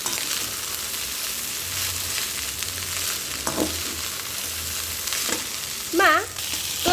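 Spicy fried rice made from leftover rice is stirred and mixed in a pan over a constant, fairly loud frying hiss, with a few scraping strokes and a brief high chirping sound near the end.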